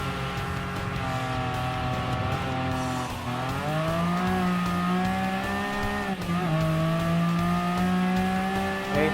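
Enzo Ferrari hypercar in a Gran Turismo Sport custom race, its engine note loud and continuous with rising and falling revs through gear changes and a dip around braking, with no talk.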